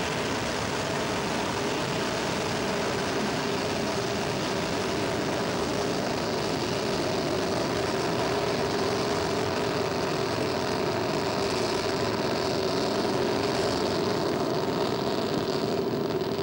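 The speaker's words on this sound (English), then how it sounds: "You can see the 4 engines. Those are the main engines burning." Ariane 5 rocket on flight V133 in October 2000, main engine and two boosters burning at launch: a continuous broadband roar that stays steady and even throughout, heard from a distance with no talk over it.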